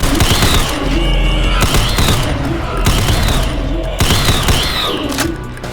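Rifle fire in the video game Ashes 2063 bursts out in four loud, heavy volleys, each a dense cluster of booming shots with a short pause between, close and dominant over a backing of music.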